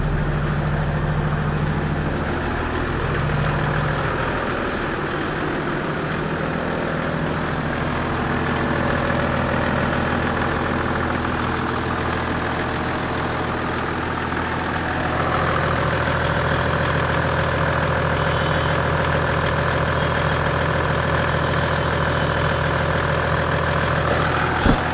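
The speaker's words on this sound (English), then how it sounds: "Can you hear the diesel hum?" A diesel engine in an old Toyota Land Cruiser FZJ80 SUV idles steadily for a long stretch, a low, even rumbling hum close by with no talking.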